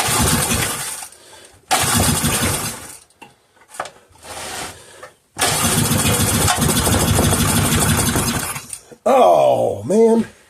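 A Briggs and Stratton 3.5hp small engine cranks and catches in several loud bursts, running briefly between short pauses before cutting out, with a voice over the end.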